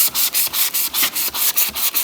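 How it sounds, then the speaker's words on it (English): Wet sanding a car headlight lens with water-soaked sandpaper, a loud close rhythmic scrubbing of regular back-and-forth strokes, about five per second, with no voices. "we're gonna dunk this into the water as well, because it's called wet sanding. And then we're gonna start sanding."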